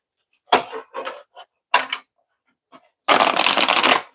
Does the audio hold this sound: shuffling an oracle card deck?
yes